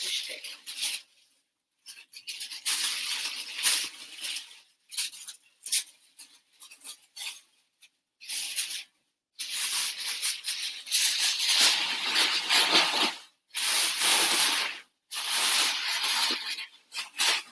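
Tissue paper rustling and crinkling while a Christmas deluxe gift box is unpacked, close and loud, in irregular bursts broken by short pauses.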